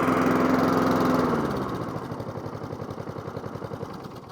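A Masport Rotarola lawn mower engine that runs poorly, with a carburetor needing cleaning, drones steadily at first. It then drops into a lower, lumpy, pulsing idle with rapid, uneven beats, close and loud.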